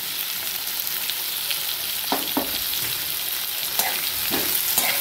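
Raw mango pieces with asafoetida stirred in a pan over a low flame: a continuous soft sizzle with several scraping spoon strokes clustered in the second half, close and clear, no talking.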